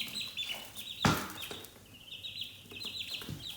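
Homestead hens clucking nearby in short irregular bursts, one louder squawk standing out amid soft background noise.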